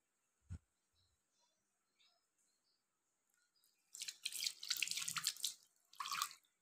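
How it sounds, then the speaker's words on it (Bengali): Hands being washed under a running tap at home: a couple of faint knocks first, then water splashes steadily into a sink for about two seconds, pauses briefly, and flows again, close and moderately loud. "এবার একটু হ্যান্ড ওয়াশ করে নেবো।"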